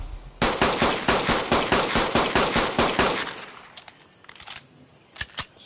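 Rapid bursts of pistol gunfire in the video game Ark, about a dozen sharp shots at a steady fast rhythm over three seconds, then a few scattered quieter pops and clicks.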